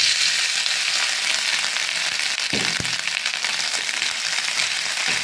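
Grated coconut roasts in a pan with a steady, close frying hiss, broken by a couple of short stirring knocks near the middle.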